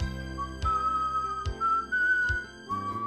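Man whistling a steady melodic tune, clear and close, over a backing accompaniment with regular rhythmic beats.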